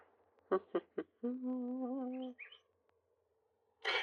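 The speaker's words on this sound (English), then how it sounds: "I don't know what bird that is, but it's beautiful." A bird sings a short outdoor phrase of a few sharp chirps followed by a sustained whistled note and a brief trill, clear and fairly close against near silence, with no talking.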